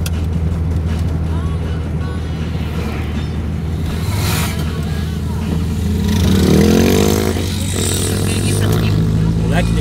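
A motorcycle passes on a pothole-patched city street in Brazil, its engine rising and fading amid steady car interior rumble and other traffic, with people talking throughout.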